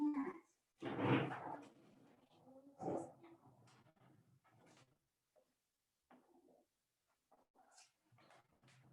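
Pet dogs, one named Rex, bark in a home kitchen, with a loud burst near the start and another shortly after, followed by quieter scattered sounds and faint movement.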